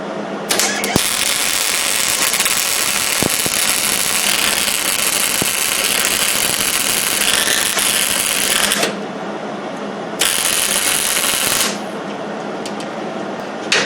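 A Hobart 140 wire-feed welder crackles and buzzes steadily while welding steel, loud and close, running for about nine seconds before a short pause and then a second, briefer bead.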